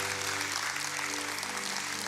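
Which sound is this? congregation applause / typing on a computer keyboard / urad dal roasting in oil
congregation applause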